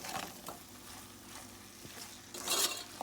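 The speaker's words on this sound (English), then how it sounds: "I'm gonna go in with some all-purpose seasoning. We're gonna give this a mix." Onions fry in a pot while all-purpose seasoning is stirred in. A faint, steady sizzle runs under soft scraping and stirring, with a brighter burst of sizzle near the end.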